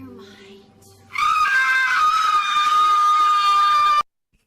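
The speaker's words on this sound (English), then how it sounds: "Here's another screaming one." A loud recorded scream bursts in after a moment of quieter background, holds as one sustained piercing wail for nearly three seconds, then cuts off abruptly.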